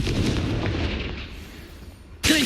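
A Confringo blast spell from the Hogwarts Legacy game goes off as a sudden loud burst with a booming crack near the end, following a steady rumble of game background.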